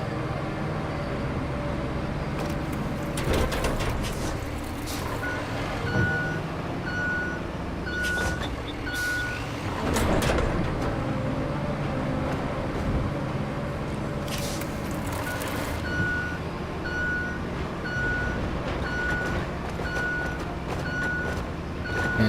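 A truck in the video game Roadcraft backs up, its reversing alarm beeping in a steady, evenly spaced series over a low engine rumble and occasional clanks and hiss.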